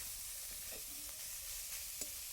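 Grated cauliflower and potato sizzle softly with spices in a hot pan, a steady faint frying hiss with a few small pops and stirring scrapes.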